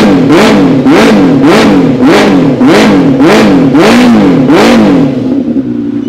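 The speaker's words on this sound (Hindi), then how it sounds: "ऑस्टिन रेसिंग का एग्जॉस्ट लगाओ और आवाज़ ना फटे, ऐसा नहीं हो सकता।" A Benelli 600i superbike fitted with an Austin Racing aftermarket exhaust revs loudly in a steady series of about seven sharp throttle blips, each rising and falling, close to the microphone with no talk.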